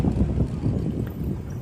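Strong wind buffets a microphone on a roadside near damaged banana plants, a loud continuous low rumble with gusty pulsing throughout.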